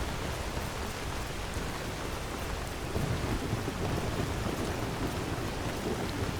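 Heavy rain pours down with rolling thunder in the video game Skyrim, a steady, dense roar that fills the whole stretch with no voices.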